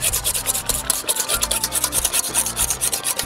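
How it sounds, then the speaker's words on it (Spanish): A hand wire whisk beats cream in a bowl, making quick, rhythmic scraping strokes that repeat rapidly and evenly up close, with no talking. "Vas a batir para montar la crema."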